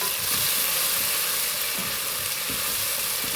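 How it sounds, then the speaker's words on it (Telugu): Tomatoes added to onions sizzle and fry steadily in a pan for a Hyderabadi paya masala, a close, continuous crackling hiss with light stirring scrapes. "చూడండి ఉల్లిపాయలు బాగా వేగిపోయాయి, బాగా వేగాయి. అందులోకి టమాటాలు వేసుకుందామండి."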